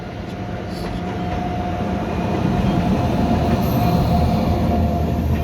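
Kanchanjunga Express passenger train running in India, heard from on board as a steady, close rumble of wheels on track that swells a little, with a faint whine above it and no clear talking.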